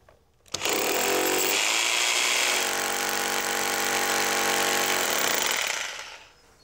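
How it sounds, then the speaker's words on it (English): A loud, continuous hammer drill grinds into a brick house wall to mount a trellis for several seconds, a harsh rattling roar that starts abruptly and then cuts off near the end. "rent a hammer drill and begin drilling to mount the trellis"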